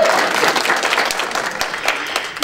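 A church congregation applauds together in a dense, steady wash of clapping that fills the room evenly for a few seconds without pause.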